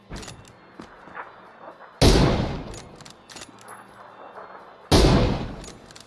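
Gunfire in a competitive video game match, two loud sharp rifle shots spaced a few seconds apart, each with a decaying tail, over quieter background noise and faint distant pops.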